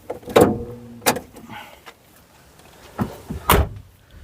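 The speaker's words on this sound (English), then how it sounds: "Get the bonnet open." Bonnet of a Volvo 740 being opened: a handful of sharp metallic clunks and clicks, a couple of latch pulls and thuds spaced apart, close by with quiet gaps between.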